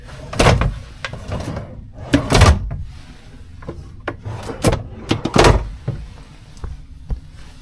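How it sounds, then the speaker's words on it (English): Wooden drawers in a ship's veranda stateroom on a Celebrity Edge class cruise ship being slid open and shut, several sharp knocks and sliding rubs spaced irregularly, close and fairly loud in a quiet room. "Multiple drawers."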